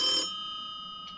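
A telephone on a desk gives one short, bright electronic ring burst, staged as a comedic effect, followed by a faint tail and a small echo-like blip near the end.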